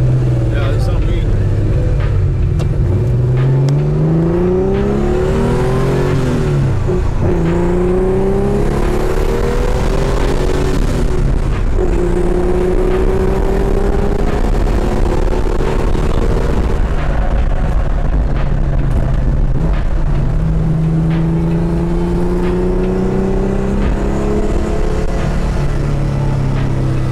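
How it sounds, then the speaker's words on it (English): DP935 car's turbine engine heard from inside the cabin, a steady loud whine and roar with rising and falling pitch sweeps as it revs, with talk over it throughout. "And we are inside the DP935 and this turbine sounds really nice."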